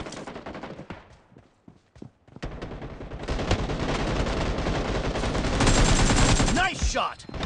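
Loud, sustained automatic gunfire in PUBG Mobile team deathmatch, starting with a few scattered shots, then an unbroken rattling burst that grows denser toward the end, close and dominant.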